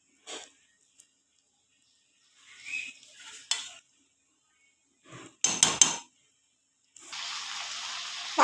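A lid is set over a pot of vegetarian green jackfruit curry, just topped up with hot water, to let it boil. Scattered metallic clinks and a short rattling clatter sound up close, followed by a steady soft hiss.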